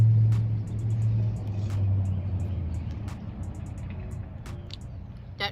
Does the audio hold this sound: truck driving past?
yes